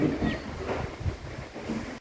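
Sea waves wash against the shore below a beachfront pool villa in Pattaya, a soft continuous surf rumble mixed with wind noise on the microphone, steady and moderately quiet until the sound cuts off abruptly.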